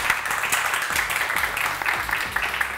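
A studio audience on a morning show claps for the Chief Minister of Punjab, steady clapping running throughout at moderate volume, with a voice talking over it and music faintly underneath.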